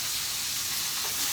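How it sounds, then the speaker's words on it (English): Seafood stir frying in a pan for a seafood boil, a steady close sizzle and crackle of hot oil running through the whole short moment with no talk. "stir frying it right here."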